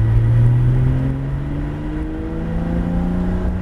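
A Porsche GT3 RS accelerates on the wet Abbeville race circuit, its engine note climbing in a smooth rising whine with steady harmonics, close and loud, with no talk over it.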